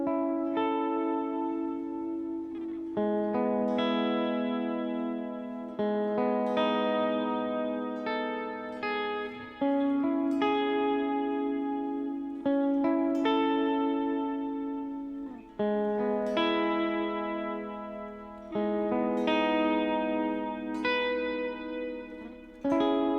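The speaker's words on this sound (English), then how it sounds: "This I'll use as a glitz reverb, which sounds amazing." An electric guitar runs through the reverb on an HX Stomp effects unit and plays sustained chords and arpeggiated notes in a worship style. Each strike rings out with a long, shimmering reverb tail, several phrases over about twenty seconds, with no talking.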